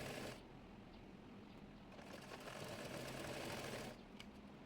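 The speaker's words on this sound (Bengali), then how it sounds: "ওইভাবে অপর হাতাটিও মুড়িয়ে সেলাই করে নেব।" A sewing machine stitches the sleeve hem of a fabric baby top, a quiet, steady whirring run that swells briefly and then settles, with no talk.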